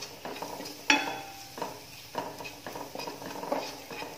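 A spoon clinks and scrapes in a bowl while chilli powder is mixed into a spice marinade for pearl spot fish (karimeen), giving a series of short stirring scrapes and taps, close and alone.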